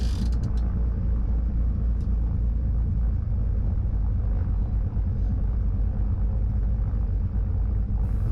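Loud, continuous low-pitched rumble of a small airplane engine at takeoff throttle, 1700 RPM, steady throughout with a few faint clicks near the start.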